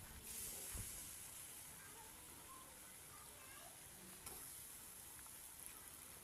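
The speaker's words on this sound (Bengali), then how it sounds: "এই যে ফুলকপিগুলো আমি কড়াইতে দিয়ে দিচ্ছি।" Cauliflower pieces hit a hot wok for a cauliflower-and-potato dish, setting off a steady close sizzle with occasional clinks of stirring.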